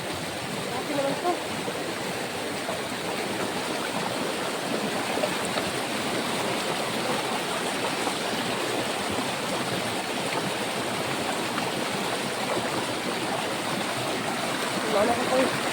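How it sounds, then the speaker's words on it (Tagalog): A swollen stream rushes strongly, its steady broadband roar of flowing water filling the scene continuously and close by, with no breaks. "Lumaki ang sapa."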